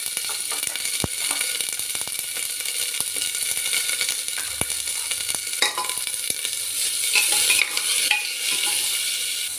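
Vegetables for dalia khichdi fry with turmeric and salt in a pan, giving a steady sizzling hiss broken by scraping stirs and occasional small metallic clinks from the utensil.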